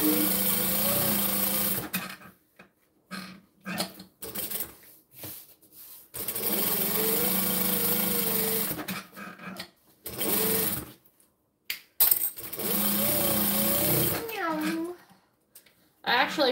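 A sewing machine stitches fabric sides together for basting in several bursts of rapid whirring, separated by pauses and fabric handling, with a person talking between runs.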